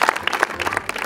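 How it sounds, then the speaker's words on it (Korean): A baseball team claps together at a players' meeting in the Heroes clubhouse, a short, lively burst of individual hand claps from a small group, close and uneven. "잘 던졌으니까 박수 한번"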